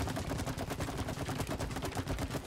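Rapid gunfire from the co-op video game It Takes Two, a dense, steady stream of shots close and loud with no talking over it.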